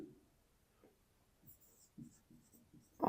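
A pen or marker writes during a math lesson on mensuration, making soft, scratchy strokes in short bursts that grow a little louder near the end, with no talking.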